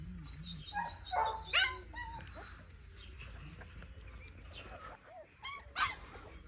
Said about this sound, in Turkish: Muffin. Muffin. Akıllı köpeğim benim.